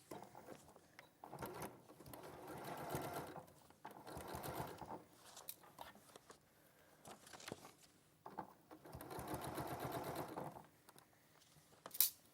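Domestic sewing machine stitching a curved neckline from dot to dot, running in several bursts of rapid, even needle chatter separated by short pauses, close and clear with no talking.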